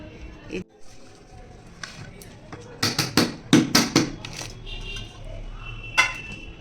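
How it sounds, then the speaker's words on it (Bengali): A knife cuts an eggless jaggery cake packed with dry fruit, making a quick run of sharp clinks and taps against the plate in the middle, with a few scattered knocks and faint talk around them. "এই যে আমি কেকটা কাটছি"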